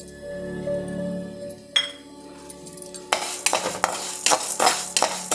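Spices for rasam powder are dry roasted in a pan on a stove over a low flame. A faint hum gives way to loud, close stirring scrapes and metallic clinks of a spoon against the pan.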